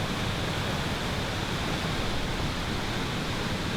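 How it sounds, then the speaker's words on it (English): Rushing waterfall on a remote brook trout creek, fast-moving water pouring steadily as a dense, constant roar close by with no voices. "if you come across this fast-moving water, these waterfalls in these remote sections of Brookie Creek, give them a try"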